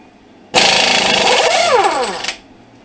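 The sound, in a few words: impact wrench on 32 mm axle nut, Honda Civic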